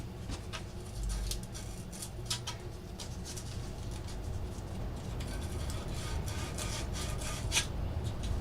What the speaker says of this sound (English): Sandpaper. See, I heard that.